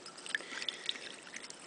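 Hot tap water pours and trickles softly while gizzard stones are rinsed, a faint, close splashing stream with small irregular drips and gurgles.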